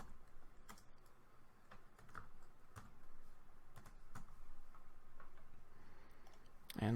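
Close, soft typing on a computer keyboard to enter a date in a fund manager transaction form: scattered irregular key clicks, fairly quiet, with a louder knock at the end.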